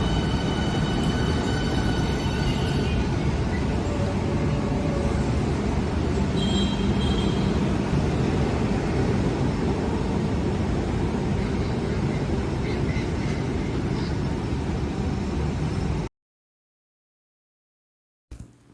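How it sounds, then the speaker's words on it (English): A Class 395 Javelin high-speed train on High Speed 1 rushes past with a loud, steady roar and a few high tonal whines, then the sound cuts off abruptly into silence. "train in Britain is the Class 395 Javelin, which reached a speed of 150 miles per hour during testing on High Speed 1"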